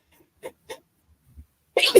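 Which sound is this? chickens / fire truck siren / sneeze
sneeze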